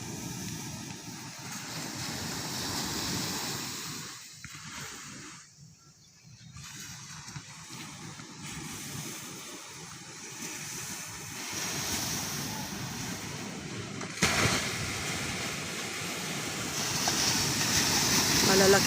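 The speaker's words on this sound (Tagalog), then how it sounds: "Malalaki lang yung alon." Big ocean waves break and wash continuously along a wide beach at Narciso, Zambales, a steady loud roar of surf with gusty wind buffeting the microphone and a voice talking over it.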